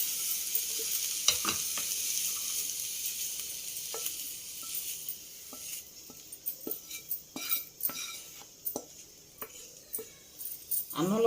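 Tempering for cucumber chutney sizzles steadily in a pan, with repeated metallic clinks and scrapes of a spoon stirring at an uneven rhythm, close and fairly quiet.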